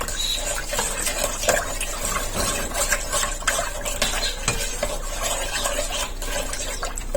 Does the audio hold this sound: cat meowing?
no